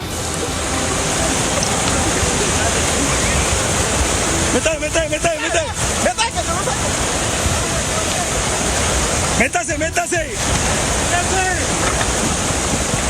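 Fast-moving river water roars continuously and loudly during a Colombian police rescue of a trapped dog, with brief rough bursts of splashing or wind breaking through the steady rush.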